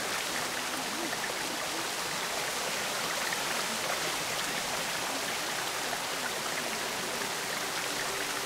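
Flowing water in the video game Planet Coaster 2 makes a steady, even rushing hiss that continues without a break.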